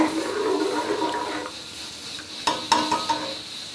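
Spice masala with coriander powder for beef paya (beef trotters) frying and being stirred in a pan, a steady close sizzle broken by sharper scraping and clattering stirs toward the end.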